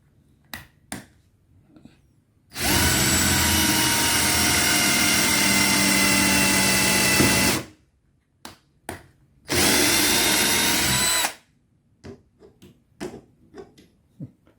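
A cheap cordless electric screwdriver used as a drill whirs loudly in two sustained bursts of about five and two seconds, separated and surrounded by scattered clicks and handling knocks.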